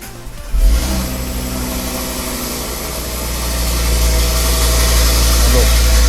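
Audi RS3 8V2 engine fires up after a brief crank and settles into a steady, loud idle that swells slightly toward the end, heard close with someone speaking French over it.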